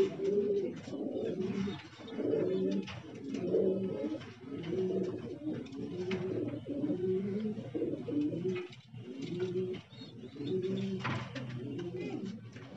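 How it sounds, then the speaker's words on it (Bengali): Red king pigeons at a large farm of imported breeds coo continuously: a dense, layered chorus of low, rolling burbles from several birds close by, with no pauses and no voices. "কিং কবুতর, লাল কিং"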